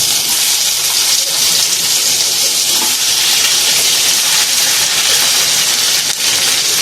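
Vegetables go into a pot of simmering broth, and a loud, steady hiss of bubbling liquid and steam fills the whole stretch.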